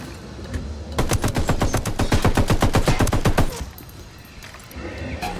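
Rapid automatic gunfire rings out in Ghost Recon Wildlands, a loud sustained burst of evenly spaced shots lasting a few seconds, then it stops and quieter background sound remains.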